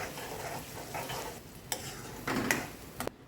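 A spoon stirs ginger powder and turmeric into a simmering tomato and green bean curry cooked without onion or garlic, with soft scraping and a few sharper clinks over a faint sizzle.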